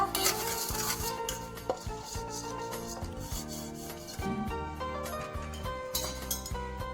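Ingredients being mixed in a metal tiffin bowl greased with mustard oil, a continuous scraping and rubbing with occasional light clinks of utensil against the bowl, close up and fairly quiet.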